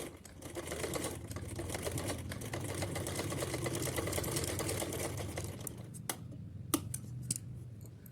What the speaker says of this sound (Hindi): हमें एक बार सिलाई लगा लेनी है इस पर